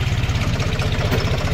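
A John Deere 5205 tractor engine idles close by, a steady low diesel chug with a rapid even pulse that holds constant throughout.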